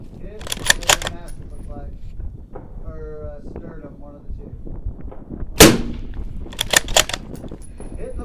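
Outdoor long-range shooting with a 6.5 Creedmoor rifle firing at a target 1032 yards away: one sharp, loud report with a ringing tail stands out midway, with people talking before and after it.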